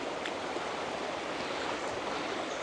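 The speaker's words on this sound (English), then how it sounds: "Nothing more cooling than walking through a stream." Water rushing in a stream in a Welsh forest while someone wades through it, a continuous broadband gurgling wash, close and even, with no talking.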